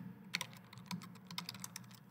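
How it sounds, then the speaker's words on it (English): Quick, irregular keystrokes clatter on a computer keyboard close by, light clicks in short bursts with no voices. "let me just type this out."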